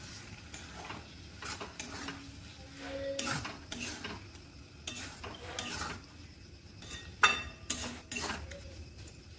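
Palak paneer with kasuri methi stirred in a pan, a soft continuous sizzle broken by repeated scraping strokes and occasional clinks of a spoon against the metal.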